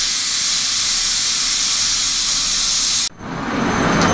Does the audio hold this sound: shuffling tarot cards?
no